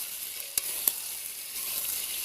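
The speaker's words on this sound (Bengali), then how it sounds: "মাংসটা ধিমে আছে কষাবো।" Chicken meat sautéing slowly in a pan over low heat, a soft steady sizzle with two sharp utensil clicks early on and faint stirring, no talking.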